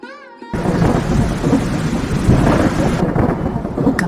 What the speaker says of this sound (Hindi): देखो कितनी भयंकर बारिश हो रही है।